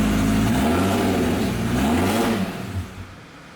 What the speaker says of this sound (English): it's still doing the rev thing where it doesn't rev past 2500